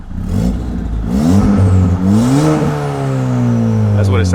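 Ford Fiesta ST with a downpipe and stage 3 E30 tune, heard from inside the car: the engine revs loudly and climbs steadily in pitch while accelerating, with a whirring rise, close and dominant.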